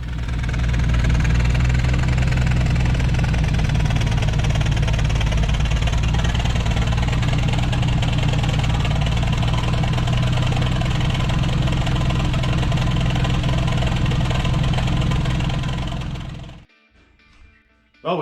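An old 1982 Jeep CJ7 engine rumbles loudly and unevenly for a long stretch with a rough, knocking idle, then cuts off abruptly near the end.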